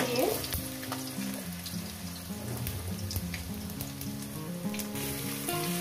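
Potatoes frying in a pan for chicken skin curry, a quiet continuous sizzle with light stirring scrapes and a soft watery undertone.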